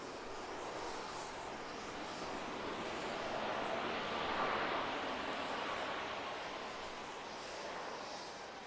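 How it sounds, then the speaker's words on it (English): A Boeing 737 MAX airliner lands at Dallas Love Field, heard as a steady, broad jet engine roar from a distance that swells slightly near the middle and eases, with no talk over it. "737 MAX landing"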